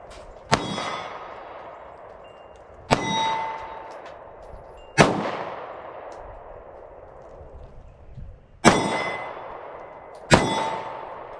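SCCY CPX-1 pistol fired at a shooting range, five sharp separate shots spaced a few seconds apart, each with a ringing decay, loud and close with no talk.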